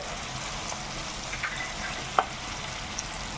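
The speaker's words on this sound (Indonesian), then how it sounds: "Kita tumis jadi satu." Papaya flowers stir-fried together with anchovies and tempeh in a pan, a steady close sizzle with occasional scrapes and clinks of a utensil stirring.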